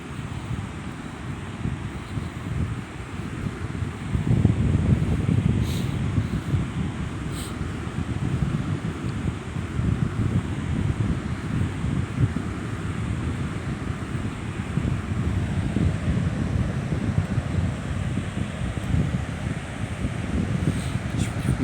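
Morning sea waves wash steadily onto a shore under gusty wind, making a continuous broad roar that swells slightly without any pause.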